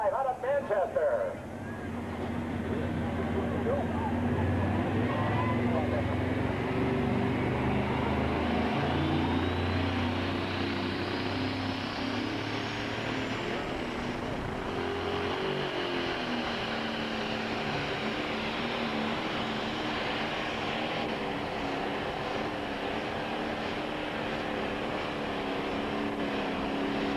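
A pro stock pulling tractor with a 466 cubic inch engine making over 1,500 horsepower roars at full power during a 2002 NTPA pull in Saline, Michigan, a sustained loud drone rising in pitch, with an announcer talking over it.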